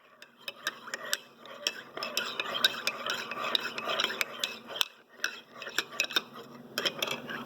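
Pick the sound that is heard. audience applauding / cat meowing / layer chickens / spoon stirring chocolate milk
spoon stirring chocolate milk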